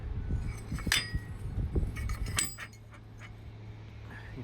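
Swinging hammers inside an ore-crushing hammer mill clink against the metal housing, with a few sharp, close metallic rings over a low steady hum.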